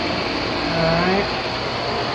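A leaking, rust-cased number 2 swimming pool pump motor runs with a steady, moderately loud mechanical hum and broadband whir, rising slightly at midpoint, with no talking.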